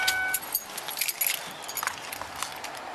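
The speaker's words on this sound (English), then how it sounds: "Turn off the car and pass me the keys" Car keys jangle in a quick burst of small metallic clinks, close and fairly faint, over a low background hum.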